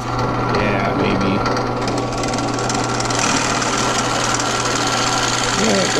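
Power drill boring holes through clamped wood for an essential oils storage rack, producing a loud continuous whirring grind that holds steady throughout.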